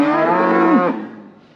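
A single loud, close cow moo on a farm with calves about, one sustained bellow that slides down and fades out.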